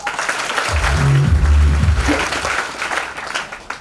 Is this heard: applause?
yes